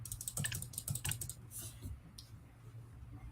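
Computer mouse clicking at a desk, a few sharp, quiet clicks in quick succession followed by fainter taps, close to the microphone.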